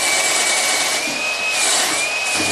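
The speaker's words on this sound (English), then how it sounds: "I'm going to try to clean them up with a wire wheel on the drill." An electric drill spins a wire wheel against long bolt threads on a 1976 Corvette, giving a loud steady whirring grind with a slight pitch wobble throughout, heard up close with no talking.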